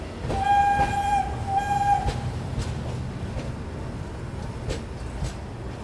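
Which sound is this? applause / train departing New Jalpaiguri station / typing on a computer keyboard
train departing New Jalpaiguri station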